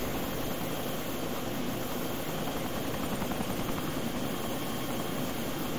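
Helicopter flying in the ArmA 2 video game, a constant loud rotor and turbine drone with broadband whine that stays steady throughout, with no voices.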